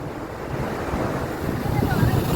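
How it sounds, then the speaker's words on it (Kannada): Ocean surf rolls steadily onto Malpe Beach on the Arabian Sea at sunset, a continuous wash of breaking waves mixed with gusty wind buffeting the microphone, building slightly louder toward the end. "Malpe Beach Sea Walk"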